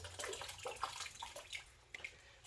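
Running tap water splashes over a small 1/4 cup measuring cup being rinsed at a kitchen sink, with a steady close stream and irregular clinks and splatters of water.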